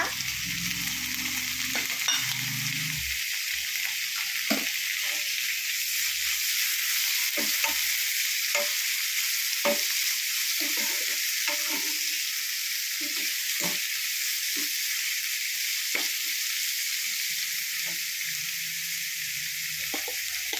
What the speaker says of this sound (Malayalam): ഉള്ളി പച്ചമുളക് ഇഞ്ചി എല്ലാം കൂടെ വഴറ്റിയെടുക്കുക എന്നിട്ട് തക്കാളി ഇട്ട് വഴറ്റുക